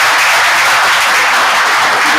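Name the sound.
audience applause for panelists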